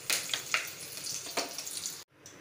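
Curry leaves hit hot oil in a pot on a gas stove, giving a close, bright crackling sizzle with a few sharper pops, then a sudden drop to a softer hiss near the end.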